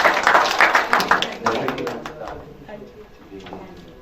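Applause from an audience at a family gathering's prayer meeting as a new member is welcomed, dense clapping loud at first and then thinning and fading over a few seconds, with voices talking underneath.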